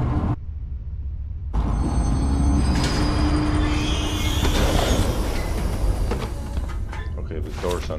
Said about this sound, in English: the door sounded a little bit more enthused this time